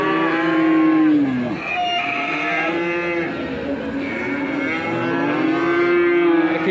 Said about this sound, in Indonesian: Kita cari sapi-sapi betina yang jos-jos.